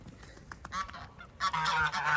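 Geese honk nearby in a short burst, a few separate calls followed by a louder run of overlapping honks, with no talking.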